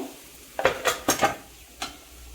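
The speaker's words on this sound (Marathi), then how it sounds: "आणि चांगलं परतून घ्यायचं" A spoon scrapes and clanks against a pan as vegetables and potato are sautéed for sambar, several distinct metallic knocks and scrapes close up over a faint kitchen background, no voices.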